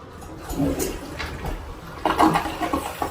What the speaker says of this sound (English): Fully flushing, functioning toilet.